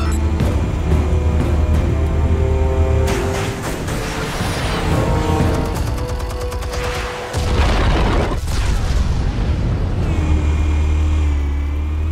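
A loud, sustained explosion rumble from the Batman Telltale Series game, deep booming roar with crackling debris and a brief dip before the blast surges again.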